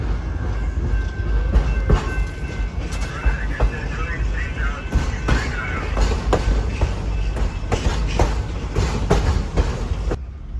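A Grand Canyon Railway train departs Williams and rolls steadily along the rails with a continuous low rumble, intermittent clacks and squeals, and a voice talking faintly over it.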